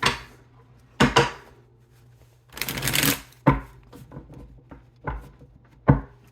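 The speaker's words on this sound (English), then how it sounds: "One more good shuffle." Stiff tarot cards riffle and snap in several short bursts, one longer shuffling rush in the middle, close up in an otherwise quiet room.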